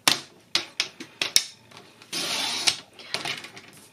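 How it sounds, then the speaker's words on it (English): A paper trimmer slices cardstock down to 11 inches: a run of sharp, close clicks and knocks as the sheet is set, then one brief sliding swish of the blade. "first I have to trim it down to 11 inches, which is easy enough to do on your trimmer"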